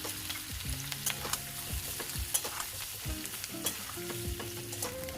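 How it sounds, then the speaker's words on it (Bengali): Grated coconut frying in a pan for a Bengali pumpkin and potato chokka, a low sizzle broken by repeated scraping stirs and brief tonal squeaks of the utensil, close and steady without voices. "নারকেল দিয়ে ভাজতে হবে"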